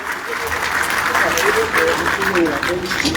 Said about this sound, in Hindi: मैं चाहूंगा तालियों से उनका जोरदार स्वागत कीजिए